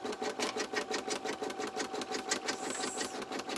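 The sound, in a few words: embroidery machine stitching wallet placement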